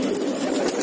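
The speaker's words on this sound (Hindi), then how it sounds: "देखिए ये सब रामपुरी कबूतर है, इसमें भी सब जोड़े हैं," Rampuri pigeons cooing steadily in a loft in a soft, rolling murmur, close and continuous, with several birds layered together.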